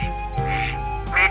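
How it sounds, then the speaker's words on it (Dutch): Ducks quack at a duck decoy on a pond, with curious wild ducks trailing tame decoy ducks into the netted catching arm; a few close, loud quacks come in quick succession. "De vreemde eenden zijn wat nieuwsgierig en zwemmen aarzelend achter de lokeenden aan de vangarm in."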